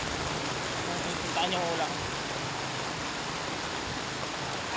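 Heavy rain pours down over a street near a market, making a dense, unbroken roar that fills the scene. A voice speaks briefly over it.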